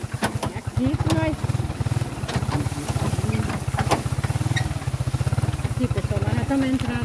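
A motorcycle engine idles close by with a steady low putter, while people talk over it.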